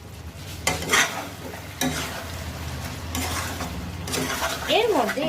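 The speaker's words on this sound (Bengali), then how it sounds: "মাংসটাকে এবার আমি ঢেকে ঢেকে কষিয়ে নেব।" Mutton sizzling in a pan while being sautéed and stirred for a Bengali potato and mutton curry, with steady frying hiss, a few spatula scrapes and clatters, and a brief voice near the end.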